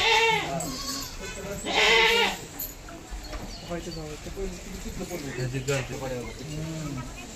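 A herd of about twenty goats bleating in a town street after heavy rain, several wavering bleats close by and overlapping, mixed with background voices.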